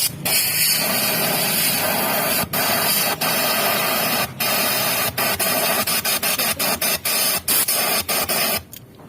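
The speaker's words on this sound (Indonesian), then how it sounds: "kita akan menggunakan angin kompresor supaya oli yang di seluruh mesin turun semua." Compressed air from a compressor blasting through a motorbike engine to push out old oil, a loud continuous hiss broken by short cuts as the nozzle is triggered in quick, irregular bursts.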